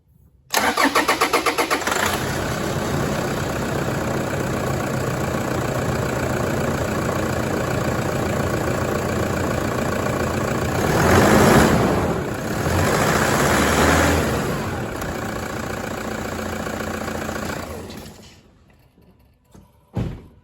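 A car engine cranks and catches after a fuel filter change, then settles into a loud, steady idle. The revs swell briefly near the middle and the engine is shut off at the end.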